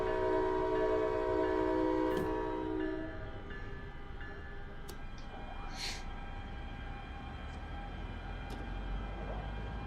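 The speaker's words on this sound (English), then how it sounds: "Does sound pretty cool in the train." Train running in Train Sim World 6, heard from inside the cab: a steady low rumble with a sustained horn tone that fades after a few seconds, plus faint clicks and a brief distant squeal.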